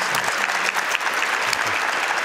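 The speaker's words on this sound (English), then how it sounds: "Can we give you all a round of applause first?" A seated audience breaks into a round of applause, close and loud, with a dense burst of clapping that holds steady throughout.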